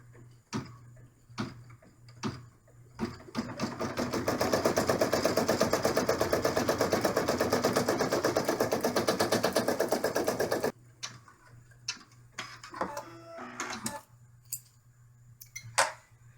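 Embroidery machine stitching felt in the hoop for a camper bag, a loud rapid run of needle strokes lasting several seconds, framed by scattered clicks and taps before and after.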